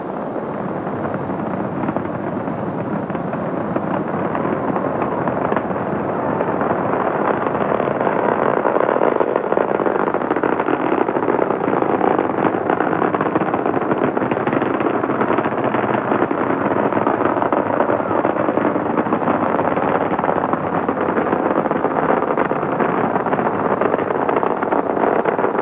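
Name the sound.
Space Shuttle Discovery rocket engines roaring during STS-29 launch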